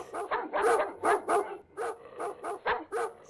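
Cartoon dogs bark in a rapid series of about a dozen sharp, loud yaps and bow-wows, close and clear with short gaps, no speech over them.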